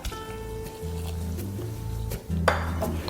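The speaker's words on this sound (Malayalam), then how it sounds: "നമ്മുടെ ബോയിലിംഗ് വാട്ടർ അതിലൊഴിച്ച് മിക്സ് ചെയ്യാം." A spoon stirs boiling water into a cocoa powder mixture for a chocolate cake, with steady scraping and clinking against the bowl over a low hum, then a brief louder splash near the end.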